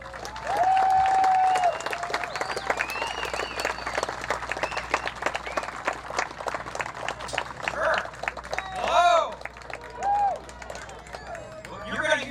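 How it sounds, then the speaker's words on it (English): Audience applause at the Rock Beyond Belief event, a sustained crowd clapping with cheers and whoops rising and falling over twelve seconds, filling a large gathering space. "let's do that with a round of applause for Todd Stiefel"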